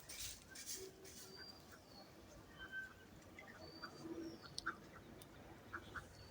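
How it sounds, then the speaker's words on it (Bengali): Ducks and geese gathered together on a rural Bangladeshi homestead, calling with scattered quacks and coos at a distance, faint over a low outdoor background hum. "রাজ হাঁস, পাতি হাঁস, সব হাঁস একসাথে"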